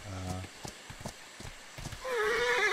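A horse in the video game Atlas whinnies with a rising, wavering neigh near the end, preceded by a few soft hoof clops, fairly faint in the game mix.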